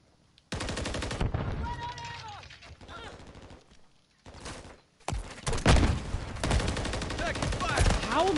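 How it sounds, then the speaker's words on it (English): Loud bursts of weapon fire come from a Call of Duty: Modern Warfare 3 match, cutting in and out in heavy, overlapping blasts with brief quiet gaps between them. "How am I shooting whole ass rocket launchers and like nothing is happening?"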